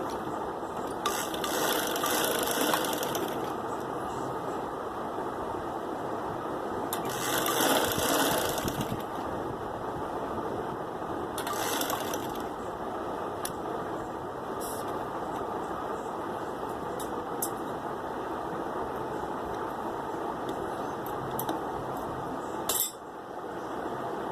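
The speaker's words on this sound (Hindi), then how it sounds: "सीधी सिलाई इसमें लगा लेंगे ताकि ये गला इधर उधर ना हो।" A sewing machine runs a straight stitch along a shirt neckline, a steady close mechanical whirr with brief louder bursts as the needle drives through the fabric, continuing without talk.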